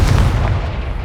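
A Confringo blasting curse in Hogwarts Legacy going off as one short, loud, booming explosion with a deep rumbling low end.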